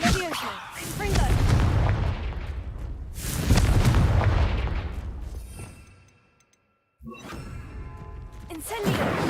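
Confringo spell blasts in the Hogwarts Legacy video game, two long booming explosions with rumbling decay, followed by a brief silence and another burst of crackling impact.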